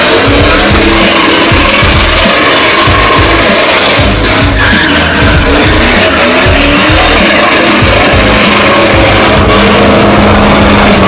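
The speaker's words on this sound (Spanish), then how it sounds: "Así es la quemadera de llantas." Truck tires burn out and squeal at a Truck Mayhem event, a loud, continuous roar of revving engines mixed with harsh, sustained tire screeching across the whole stretch.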